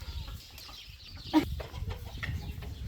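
Chickens at a farm coop during egg collection give soft, scattered clucks and one sharper squawk. The sounds are faint and mid-distance, with rustling around them.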